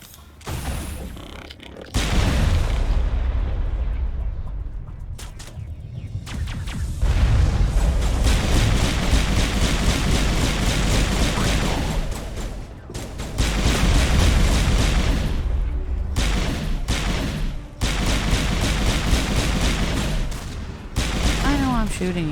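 The Mako armored vehicle in Mass Effect fires at enemies in long, loud stretches of heavy gunfire and booming impacts, broken by short pauses and mixed with mechanical clanks and game effects.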